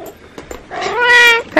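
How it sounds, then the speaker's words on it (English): A cat gives a single loud, close meow that rises and holds with a drawn-out, whiny tone, preceded by a few soft, faint sounds. "I've got a cat here."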